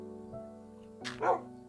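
Wolf in the Minecraft video game giving a couple of short barks and yips, fairly quiet, with a brief whimpering tone in between over faint background.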